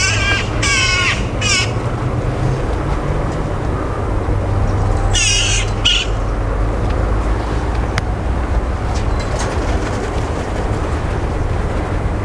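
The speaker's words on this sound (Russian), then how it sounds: "Птичья ругань." Crows squabble and caw in harsh bursts, loudest at the start and again midway, over a steady low engine drone from a narrow-gauge diesel locomotive at a railway museum.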